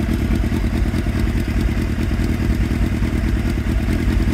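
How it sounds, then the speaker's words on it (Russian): Loud, steady engine running of a 2003 Suzuki GSX-R 600 K3 motorcycle with a stuffed aftermarket exhaust, a close, aggressive rapid throb with a slight mechanical clatter. "Довольно агрессивный звук."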